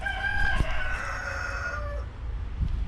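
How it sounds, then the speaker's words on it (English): A territorial rooster gives a full, close crow lasting about two seconds, loud and clear with no talking over it. "I'm gonna get this rooster on camera."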